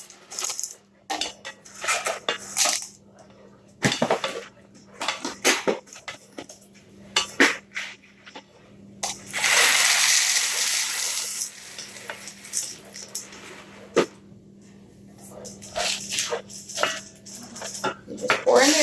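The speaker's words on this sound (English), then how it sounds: "You just pour in the noodles." Dry pasta, about two cups, is poured into a pot of boiling water on a home stove, giving a rattling rush and a burst of bubbling hiss amid clinks of cookware and intermittent talking.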